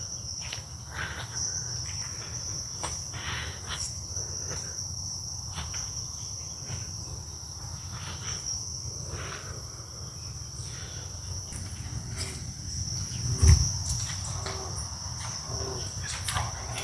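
Crickets chirp steadily behind a fence in the video game South of Midnight, a continuous high insect trill with a low ambient hum underneath and no talking.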